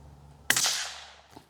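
A single sharp report from a Savage 93R17 rimfire rifle at an outdoor target range, a loud crack with a fading tail and a faint second pop near the end.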